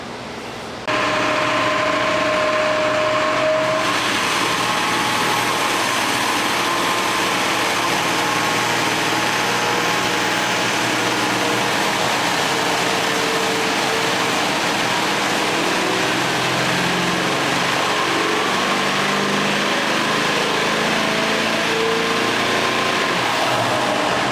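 A Duramax diesel truck engine on a dyno roars loud and steady at high revs, running continuously after a brief quiet start, with an LML factory driver's-side exhaust manifold fitted.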